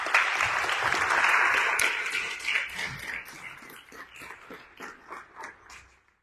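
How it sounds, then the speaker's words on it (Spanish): An audience welcomes a speaker at a talk with a loud burst of applause that gradually thins into scattered claps before fading out. "Bienvenido, y le damos un fuerte aplauso."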